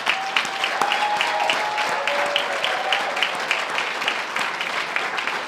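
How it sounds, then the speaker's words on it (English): Dense, sustained applause from an audience at an education awards ceremony, many hands clapping steadily and evenly for several seconds. "let's just give one more big round of applause to all our award winners"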